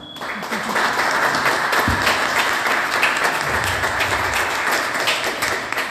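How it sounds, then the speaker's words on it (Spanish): Sustained audience applause greets two guests at a concert in a border city, with dense steady clapping filling the room and some voices mixed in. "Así que un fuerte aplauso para ambos, por favor."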